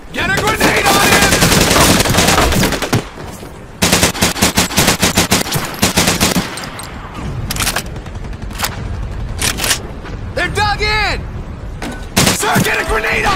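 Dense automatic and rifle fire in the Medal of Honor: Pacific Assault video game, a Tarawa beach battle, with loud continuous bursts broken by short gaps, soldiers shouting over the din.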